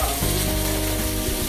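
Asparagus sautés in oil in a skillet, giving a loud, continuous close-up sizzle with a faint stirring undertone.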